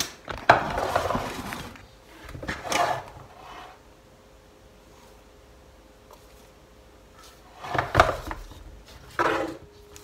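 Knife cutting through half-baked homemade bread rolls, a few separate bursts of sawing and scraping near and fairly soft, with quiet pauses between.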